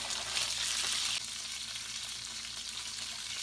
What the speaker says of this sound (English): I'm cooking it on the side as well to seal in all of the juices.